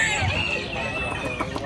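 A red owl-type chicken at a poultry show gives short clucking calls close by, over a busy crowd murmur, the call rising and then tapering off over a couple of seconds.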